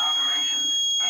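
An Arduino fire detection system with a GSM alert sounds its alarm: a steady, shrill electronic tone that holds for about a second and then drops out abruptly.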